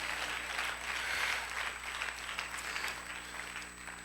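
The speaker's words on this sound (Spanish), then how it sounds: "Denle un aplauso, denle gloria al Señor." A church congregation applauds during a Spanish-language service, a continuous dense patter of many hands clapping at moderate distance over a steady low hum, with no speech.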